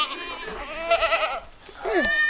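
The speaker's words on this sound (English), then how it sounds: "There's a big baby goat." A baby goat on a farm bleats in a few wavering, nasal cries, close and fairly loud, with a second higher bleat following shortly after, over faint outdoor background noise.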